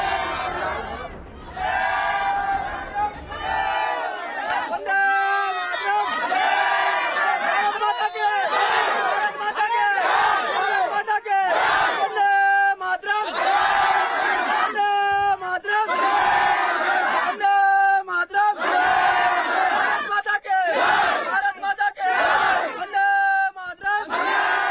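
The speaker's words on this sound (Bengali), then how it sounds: "আর এই হলো আপনার রাজ্যের সীমান্তে বেড়া দেওয়ার সময়কার স্লোগান" A large crowd chants slogans during construction of a fence along a state border, with loud rhythmic bursts of shouting repeating one after another, separated by short gaps.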